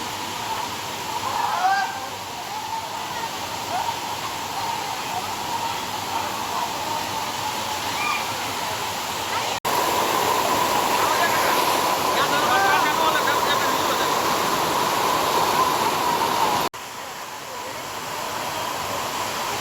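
Loud, steady rushing of monsoon water on the old stone steps of Girnar hill fills the whole stretch, a constant broadband roar that swells briefly louder in the middle, with faint voices underneath.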